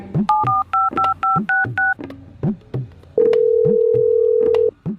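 Someone dials on a borrowed phone's keypad: a quick run of about seven paired beeping tones in even rhythm, then a longer steady tone, with soft background noise beneath.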